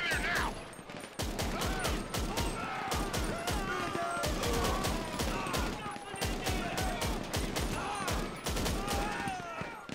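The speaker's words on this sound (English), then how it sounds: "People are shooting." Dense, overlapping gunfire from a shootout in the video game GTA 5 Online, rapid shots crackling continuously and loud throughout, with brief voices mixed in.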